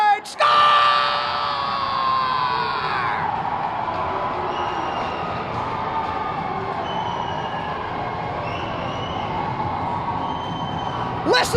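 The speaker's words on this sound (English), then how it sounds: "Listen to this crowd!" At an ice hockey game between Somerset Berkley and Taunton, a loud crowd erupts with yelling, screaming and horn-like blasts after a goal, and the roar stays sustained and dense for several seconds.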